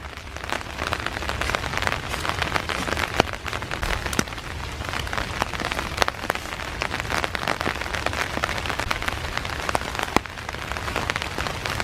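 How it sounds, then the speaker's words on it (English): Steady rain patters on leaves and ground in Iroquois Park on a dark, foggy December morning, a dense, even wash of drops that continues throughout with no voices. "Still raining."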